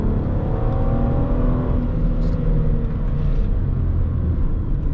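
A 2009 Hyundai Azera with a 3.3-litre 245 hp V6 accelerates with a loud, close engine drone, the pitch dropping at a shift from second to third and pulling on from there.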